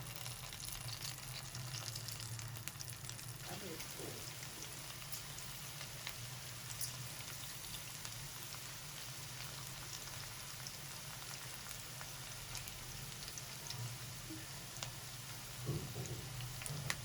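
Bhindi (okra) pakora frying in hot oil over a low flame, a faint, even crackling sizzle that holds steady throughout with no talking.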